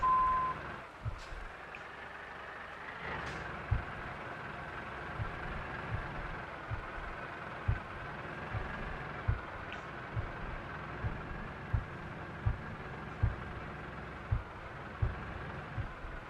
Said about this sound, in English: the truck's trying to do its best, but it ain't getting any joy